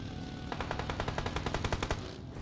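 Rapid automatic M4 rifle fire in a battle royale video game, a steady burst of evenly spaced shots lasting over a second over a busy game background, then fading out.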